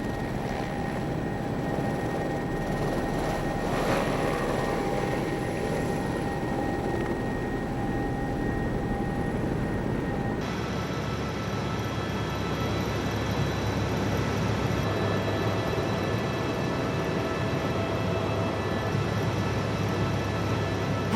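A helicopter flying on Aconcagua, carrying climbers off the mountain, gives a steady, loud rotor and engine drone that continues unbroken for the whole stretch, with no voices.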